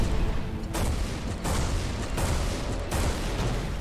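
A flak cannon fires in the space shooter Everspace 2, heavy booming blasts landing in a steady rhythm about every three quarters of a second over a constant roar, loud and close with no speech.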